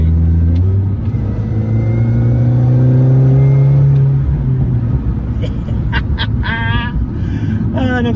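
A Mini Cooper S R53 drives past close by with its engine pulling and rising in pitch, then easing off. Faint chirps come in near the end.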